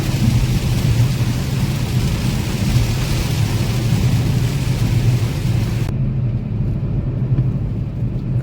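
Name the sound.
light rain on a car windscreen while driving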